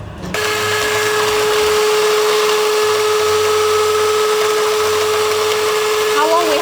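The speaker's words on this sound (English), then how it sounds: "And then we will use a hand mixer" Handheld electric mixer whisking egg yolks with sugar and honey for Vietnamese egg coffee, starting abruptly and holding a loud, steady high-pitched motor whine, with a voice briefly heard near the end.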